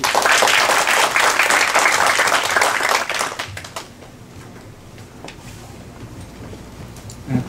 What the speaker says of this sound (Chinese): 那我们请用最热烈的掌声来欢迎洪聪敏洪教授